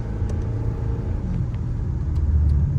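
Mercedes CLS63 with a GCA performance valved exhaust idling with the valves closed, giving a steady, subdued low rumble close by with no one talking.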